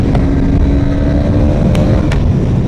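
A Honda CB 300 motorcycle engine pulls hard under acceleration in first gear, a loud, steady, smooth engine roar up close with wind rush throughout.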